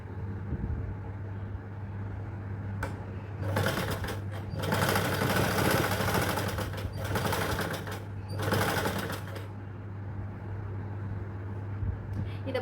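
Sewing machine stitching a princess-cut blouse with belt, running in several bursts of rapid, steady whirring stitches, close and fairly quiet, with a low hum between bursts and no talking.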